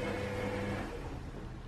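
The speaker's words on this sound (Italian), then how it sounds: "Il rumore che sentite della lavatrice." A domestic washing machine runs steadily in a home kitchen, a continuous broadband mechanical hum with low tonal drone, fairly close, with no talk over it.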